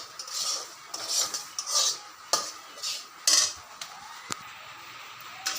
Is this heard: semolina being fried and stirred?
yes